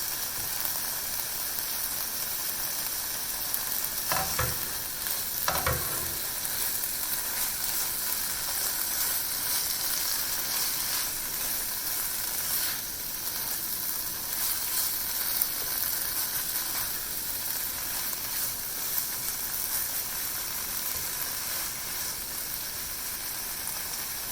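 Peas with tomatoes sizzling steadily in a pan over medium heat, a constant close hiss with a couple of brief scraping stirs, no voices.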